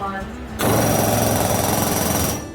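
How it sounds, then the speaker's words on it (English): A mechanical hum, then an air hammer driving a rivet gives a loud, steady pneumatic hammering buzz, rapid and continuous for about two seconds. "Here's Dad on the other side, putting in a rivet, then air hammering,"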